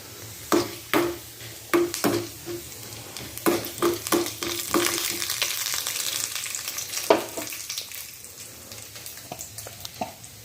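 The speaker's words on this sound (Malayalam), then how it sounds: "ഒരു പാൻ വെച്ച് കുറച്ച് വെളിച്ചെണ്ണ ചൂടാക്കിയ ശേഷം അതിലേക്ക് കുറച്ച് ഉഴുന്നുപരിപ്പ് ചേർത്ത് കൊടുക്കാം" Urad dal crackles and sizzles as it fries in hot coconut oil in a pan for Kannur-style prawn chammanthi podi, with sharp popping bursts early on settling into a steady close hiss.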